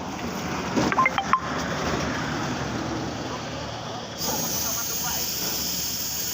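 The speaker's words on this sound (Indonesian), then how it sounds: "Kita tinggal nyemprot yang bagian depan terlebih dahulu." Spray paint hisses steadily onto the front of a motorcycle body in thin coats: a continuous close hiss with faint clicks near the start and a slight change in tone partway through.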